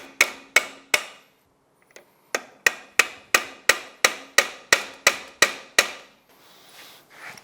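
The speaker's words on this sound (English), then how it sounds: "we just need to come back and bend the tabs in to secure the bolt in" Sharp metallic hammer strikes bending locking tabs over a bolt during a Yamaha YXZ1000R engine rebuild, three quick blows, a short pause, then a steady run of about a dozen evenly spaced, loud, close hits.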